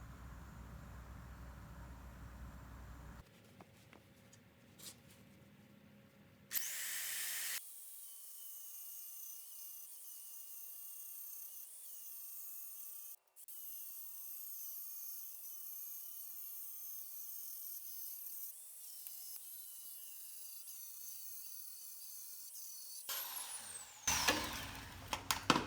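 A drill or grinder works out spot welds on the shock tower and apron of a 1967 Ford Mustang, giving a steady, high mechanical whine for about fifteen seconds, bracketed by shorter bursts and handling noise, with no talking.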